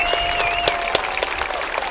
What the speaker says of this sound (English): Give these people a big round of applause on a spectacular season that they had.